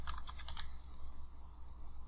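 Rapid keystrokes on a computer keyboard as a password is entered, a quick burst of close, crisp clicks in the first half second followed by quiet room tone.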